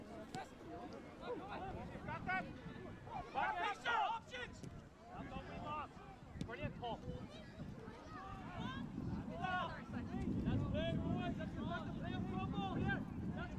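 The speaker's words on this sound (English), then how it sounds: "the wind definitely playing its part there" Wind buffeting the microphone at an outdoor under-16 youth football match, gusting rumble rising and falling under a commentator's voice and distant sideline shouts.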